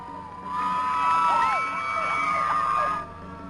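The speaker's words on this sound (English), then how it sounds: "You could hear the crowd cheering as he was taken away." Outside a courtroom, a crowd cheers and whoops as a convicted man is led away, a loud burst of overlapping shouts and yells lasting a few seconds before cutting off.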